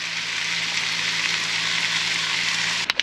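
Minced garlic sizzling in a hot frying pan on a caravan trip, a steady close crackling fry that holds evenly throughout and then ends with a couple of sharp clatters.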